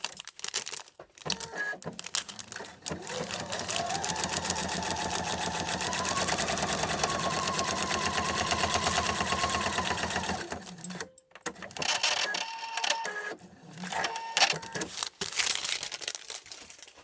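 A sewing machine stitches a seam on a foundation-pieced Christmas tree quilt block, a steady whirring run of several seconds between handling noises and short bursts of needle chatter.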